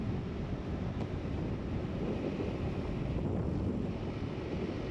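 Steady broadband wind turbulence buffeting a crash helmet while riding a KTM 390 Adventure motorcycle behind a Givi AF7711 Airflow windscreen at its lowest setting, a constant loud low-frequency roar with no talking.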